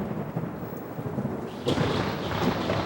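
Thunder from a lightning strike cracks and rumbles over steady falling rain, the loud clap arriving midway and lingering.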